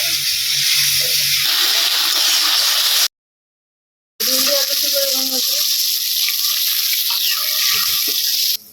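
Fish frying in a pan with a ground paste of cumin, ginger and onion: a loud, steady hissing sizzle that cuts out briefly into silence, then resumes with faint voices in the background.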